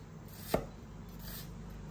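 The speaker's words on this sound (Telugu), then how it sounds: "ఆనియన్స్ని సన్నగా కట్ చేసుకోవాలండి" A single sharp knife stroke through onions on a cutting board, quiet and close in an otherwise near-silent home kitchen.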